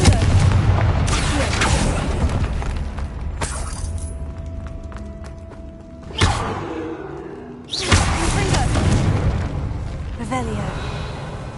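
Blasting-spell explosions in a Hogwarts Legacy catacomb, with a loud burst near the start and two sharp booming blasts later on, all set over busy game sound and a voice speaking.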